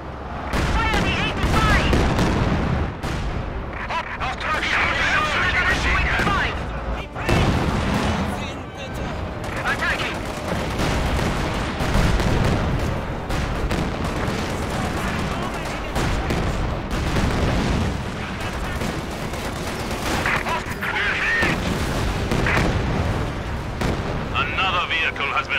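Dense World War II battle in Company of Heroes 2, with an 85mm gun firing amid constant artillery booms, explosions and rattling gunfire, loud and continuous, with shouted voices mixed in.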